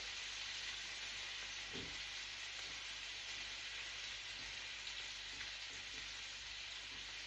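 Salmon pieces simmering in a hot pan give a steady, close sizzle and crackle throughout, with a couple of soft clinks and no talking.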